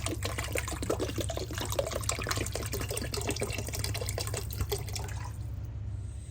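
Water poured into a pan of Kerala-style white tuna fish curry, a steady splashing and trickling that runs for several seconds and then stops near the end, with a low constant hum underneath.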